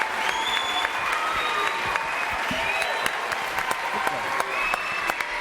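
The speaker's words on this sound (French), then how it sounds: "Applaudissements." Studio audience applauding steadily on a French television show, dense and continuous clapping with a sharper clap or two standing out, some crowd voices mixed in.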